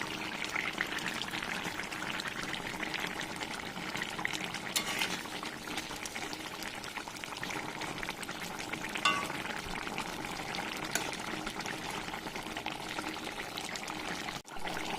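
Fried spice paste goes into a pan of hilsa fish curry with potato and eggplant, giving a steady, continuous sizzle of frying with occasional stirring and scraping sounds throughout.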